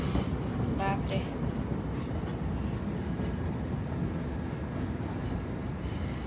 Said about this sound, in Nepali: त्यहाँ ट्रेन हिँडिरह